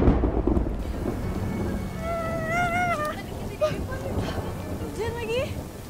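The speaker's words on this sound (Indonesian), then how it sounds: "Hujan lagi." Rain falls steadily with rolling thunder in an outdoor scene, a continuous wash of noise beneath high tonal sweeps, with no clear talk over it.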